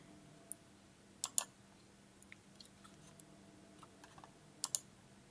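Sparse computer mouse clicks while working in a word-processing document, a few sharp isolated taps and a couple of quick double clicks, close and quiet in a hushed room.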